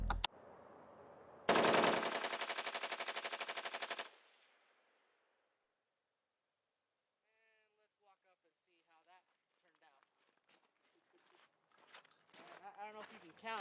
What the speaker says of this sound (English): I don't know if you can count how fast I was able to unload 30 rounds